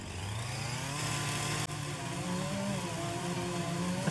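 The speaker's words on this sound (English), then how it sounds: "let's get our chainsaw out and cut this one down as low as I can." A chainsaw in Farming Simulator 25 cuts down a box elder tree, a steady buzzing engine drone that surges slightly in pitch, loud and continuous with a brief dip partway through, and no voices.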